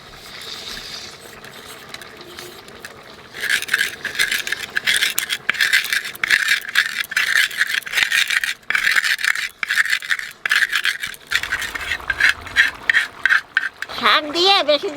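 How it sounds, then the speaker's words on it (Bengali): Roasted cumin seeds are ground with a steady, rough scraping and rattling that runs in quick repeated strokes for several seconds before stopping abruptly. "ভাজা জিরাটা একটু গুঁড়ো করে নেব।"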